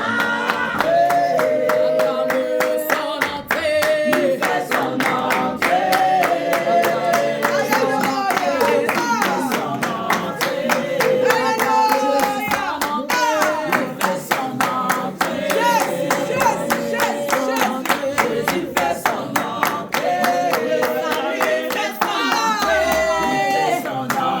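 A worship congregation in Paris claps in steady rhythmic beats to welcome Jesus' entrance, loud and continuous under lively singing voices and music throughout.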